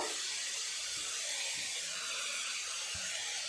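Ginger-garlic paste hissing in hot oil with onion and tomato, a steady bright sizzle throughout with a few soft stirring knocks underneath.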